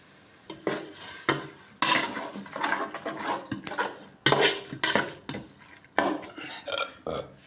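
Popa fish sautéing in a pan while being stirred, with a utensil repeatedly scraping and clattering against the metal in uneven bursts over a soft frying sizzle, close and without talk.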